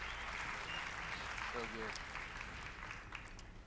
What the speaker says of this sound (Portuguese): Deu o pastor Chris um outro aplauso.